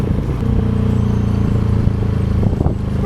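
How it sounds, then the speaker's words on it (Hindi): A Bajaj Freedom 125 CNG motorcycle, nearly out of CNG, sputters and jerks: a loud, close, low engine rumble that runs steadily and then stumbles briefly near the end. "देखो झटके मार रही है बाइक।"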